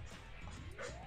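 Attack dogs in the C&C Red Alert video game, a quick whimpering yip with a rising whine amid low game rumble, all within about a second.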